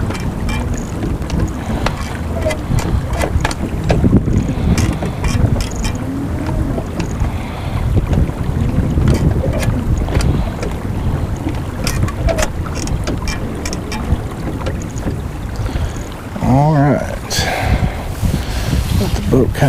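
A boat's motor drones steadily while wind buffets the microphone and water rushes past; a voice briefly speaks near the end.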